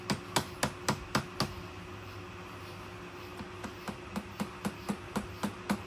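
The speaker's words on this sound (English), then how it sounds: "tapped it with a rubber ground hammer" A rubber hammer taps the handlebar clamps on a Kawasaki KLX110L pit bike. A quick series of sharp knocks is followed by a pause, then a steadier run of lighter taps, all faint and with no talking.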